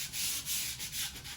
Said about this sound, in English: we're gonna sand the wood